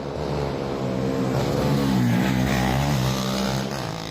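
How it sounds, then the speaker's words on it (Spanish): Motorcycles fitted with added resonators to make more noise rev loudly in a Colombian neighborhood, a sustained roaring engine drone that swells and holds for several seconds with no voices. "Tienen unos resonadores que le colocan a sus motos para que hagan más ruido"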